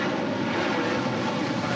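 A SkyWest airliner inbound on the ILS to runway 25 left, its engines a steady, broadband roar held at even loudness throughout, with no voices.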